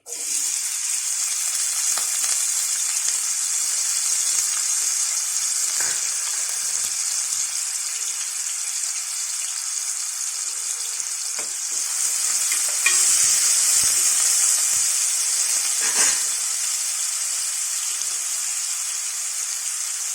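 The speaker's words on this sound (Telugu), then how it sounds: "ఆనియన్ కొంచెం వేగిందమ్మా." A small onion fries in about four spoons of hot oil in a pan, making a steady, loud, close sizzle with a bright hiss that runs throughout, with occasional faint stirring scrapes and no talking.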